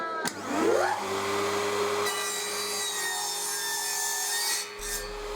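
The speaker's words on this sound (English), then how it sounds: "I rotated my miter saw bed to 30 degrees and made a cut." A miter saw spins up and cuts through pallet wood, its motor whine rising and then holding a steady, loud tone as the blade rasps through the board, before it winds down. No one speaks.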